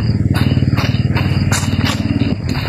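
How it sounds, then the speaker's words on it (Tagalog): A motorcycle approaches with a steady mid-pitched engine drone and a low, rhythmic throb that holds loud and close throughout, overlaid by intermittent brighter bursts of noise. "Parang may motor, Brad."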